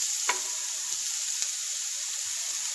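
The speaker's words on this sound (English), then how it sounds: "So my oil is pretty hot now, so I'm gonna take my onions and my peppers and everything like that and put it in" Onions and peppers sizzle loudly and steadily in hot oil, a bright continuous hiss with a few faint clicks of a utensil.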